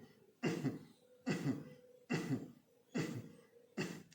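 Five forceful, evenly spaced coughs made with the mouth closed as a kapalbhati breathing exercise in a home yoga class for senior citizens, each a sharp burst about a second apart, close and fairly quiet, with no talk.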